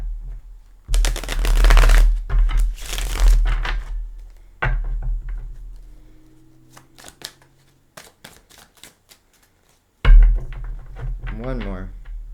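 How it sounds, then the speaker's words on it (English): A deck of tarot cards shuffled by hand a couple of times in short riffling bursts, close and fairly loud, followed by a quiet stretch and a few faint handling sounds. "So we'll give them a couple shuffles."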